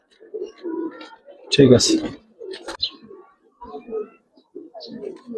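Indian red bom pigeons cooing in a series of soft, low throaty coos close by, interleaved with someone talking and a sharp clatter midway.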